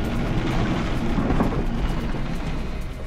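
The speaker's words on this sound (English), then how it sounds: "You could hear the hail hitting the plane" Hail and a thunderstorm batter an airliner in flight, a loud, dense, continuous roar with rumbling low end and no break for three seconds.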